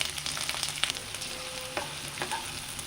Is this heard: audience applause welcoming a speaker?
no